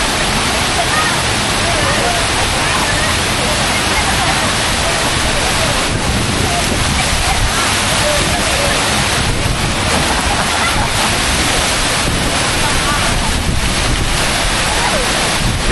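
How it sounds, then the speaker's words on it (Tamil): A waterfall at a swimming spot near Chennai, where boys jump in from above, sends out a loud, constant rushing roar of falling water. Voices are partly buried beneath it. "தண்ணி சவுண்டுக்கு நான் பேசுகிற கேட்குதான்னு தெரியல"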